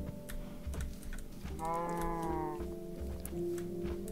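A Minecraft cow lets out a single drawn-out moo lasting about a second, set against quiet, scattered computer keyboard clicks and soft background noise.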